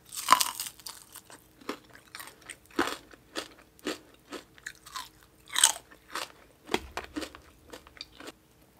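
Crunchy crispy pork bitten and chewed with a spicy rice-noodle salad, loud close crackling crunches in a steady chewing rhythm, with no talking.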